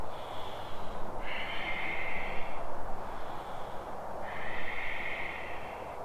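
Deep, slow yoga breaths during a flowing standing sequence, two long airy exhales a few seconds apart, close and fairly loud, with a soft hiss between them and no talking.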